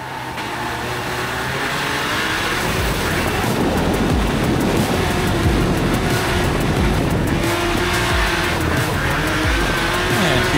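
A drift car making its competition run at the NEZ Drift Grand Final: a loud, continuous engine roar with rising revs and squealing, skidding tires that stays close and dominant throughout, with no speech over it.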